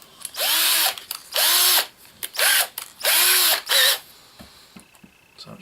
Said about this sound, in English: So I'm just going to drill it underneath the drill.